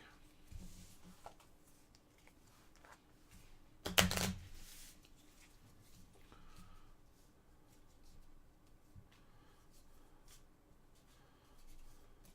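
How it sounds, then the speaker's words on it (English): A deck of cards is shuffled during a tabletop card game. One short, crisp riffling burst stands out midway against a quiet room with faint scattered handling noises. "Shuffle my deck."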